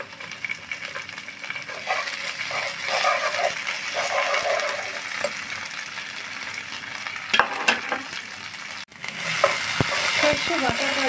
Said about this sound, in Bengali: সর্ষে বাটাটা দিয়ে আমি ভালোভাবে কষিয়ে নিব।